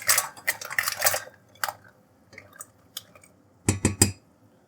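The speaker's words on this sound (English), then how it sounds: "Now it's time to add the mussels." Mussels tumbling into a pan after a wine reduction, giving a few bursts of hard shell clatter and clinks separated by quiet pauses.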